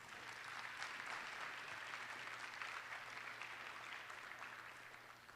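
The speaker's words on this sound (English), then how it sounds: "A big round of applause for them," Wedding reception guests applauding, a broad steady patter of many hands held at a fairly faint level from start to finish.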